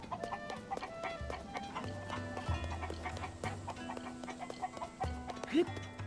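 A chicken clucks in a steady series of short calls in Zelda: Tears of the Kingdom, set against quiet game music with a faint voice underneath.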